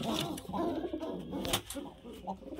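Lotan pigeons coo in soft, low, repeated calls close by, with a bright click or flutter partway through.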